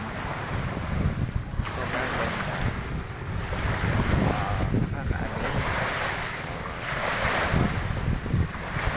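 Waves wash against the shore of the sea at Malitbog, Southern Leyte, in a constant loud roar buffeted by wind noise on the microphone, with no distinct pump boat engine standing out above the surf.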